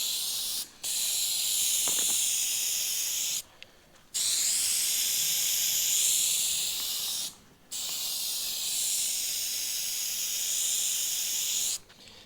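Primer spray can spraying onto a fiberglass trunk lid for an Altezza repair: long steady hissing bursts, close and fairly loud, broken by brief pauses between passes, with a faint rattle early on.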